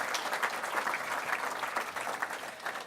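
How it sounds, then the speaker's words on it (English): Audience applause at an official opening event with Logan City's mayor, a faint, steady patter of many hands clapping from a moderate distance, continuous throughout. "Can we give them all a big round of applause"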